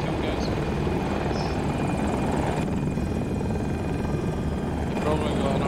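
A KA-520 Super Hokum attack helicopter in the video game Battlefield 2042 produces a loud, steady rotor and engine drone throughout, dense and close, with a voice speaking over it.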